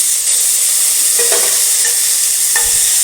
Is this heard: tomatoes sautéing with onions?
yes